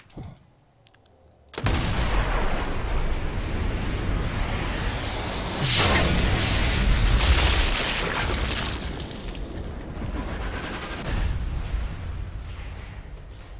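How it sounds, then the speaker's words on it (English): Explosion in the Sniper Elite 4 video game: a sudden loud boom bursts out of near-silence, followed by a long rumbling roar with further swooshing blasts and debris, and no talk over it. "is that going to be a big enough explosion?"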